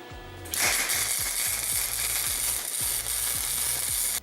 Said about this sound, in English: place it like so, and weld it on